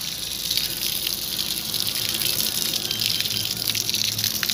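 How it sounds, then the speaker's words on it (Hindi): Water gushes out steadily into a farm field, a loud, continuous rushing flow with no pauses, heard up close and alone. "इधर अभी छोड़ना है पानी"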